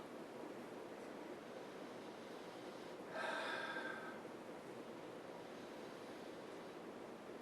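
A close sniff at a glass of rye-barrel-aged Belgian tripel beer, one short burst of breathy inhalation rising briefly above a steady background hiss.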